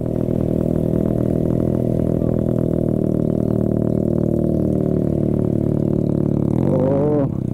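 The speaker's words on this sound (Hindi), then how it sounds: "2 सिलेंडर का साउंड एकदम तगड़ा वाला" A two-cylinder superbike with an SC Project exhaust rumbles loudly and steadily up close, with a deep throbbing exhaust note that shifts near the end as it revs.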